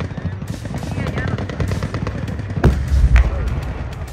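Gunfire from a Leopard 2 tank and several barrels at a military show for Armed Forces Day at Bradlo, a rapid rattling fusillade with a couple of heavier booms near the end, close and loud, with voices underneath.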